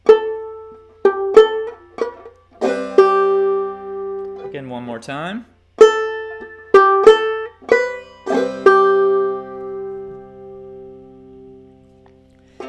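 A clawhammer banjo plays a measure of Snowdrop with brush-thumb strokes, crisp plucked notes in a bouncy rhythm, played through twice with a short spoken remark in between.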